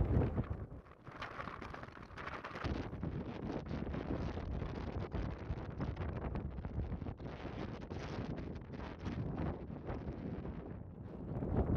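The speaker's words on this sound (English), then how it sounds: "the wind's really picked up now" Strong gusty wind on an exposed hilltop buffets the microphone in a continuous low rumble, swelling and easing throughout with no voices.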